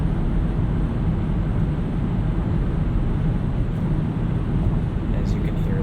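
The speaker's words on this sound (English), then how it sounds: "there is definitely some wind noise at speed" Cabin of a 2017 Kia Niro EX cruising at speed, with a steady low roar of wind and road noise around the windows and A-pillars, constant and enveloping.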